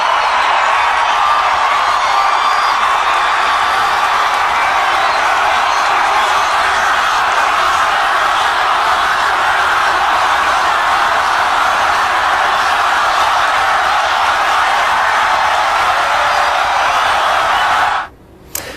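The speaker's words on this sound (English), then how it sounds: "The crowd chanting, "Lock her up."" A political rally crowd in Cincinnati chants in a large hall, a loud, sustained roar of many voices blending into a steady rhythmic wall of sound that cuts off abruptly at the end.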